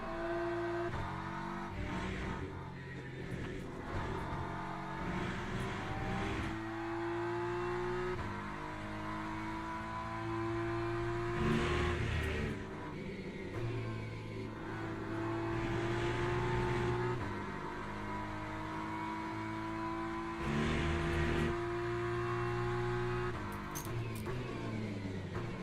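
A BMW race car in the Le Mans Ultimate sim, its engine note rising and falling through gear changes in a steady, continuous drone with no pauses, with understeer through the corners.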